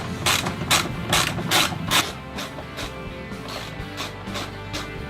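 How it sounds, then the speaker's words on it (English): A hand ratchet works loose the turn signal bolt on a Harley-Davidson Road Glide fairing, giving a close, fast run of clicking strokes in bursts, then steadier, softer clicking. "you're going to want to remove the visible bolt for your turn signals"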